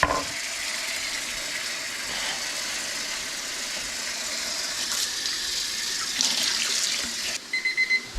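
Cold tap water runs steadily into a sink, a constant rushing splash that continues throughout, with a few brief clicks near the end.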